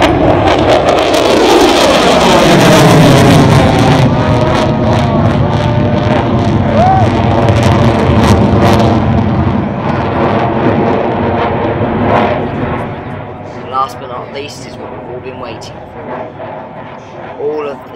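An F-35 fighter jet with its F135 engine climbs straight into the vertical at an air show, a loud roaring rush that peaks early then fades and thins as the aircraft recedes into the distance.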